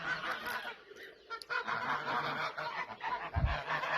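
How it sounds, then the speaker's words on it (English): Geese kept with chickens in a backyard garden, honking and chattering in a busy, overlapping flock at moderate distance, with no pause across the few seconds. "I've got some geese and some chooks around here"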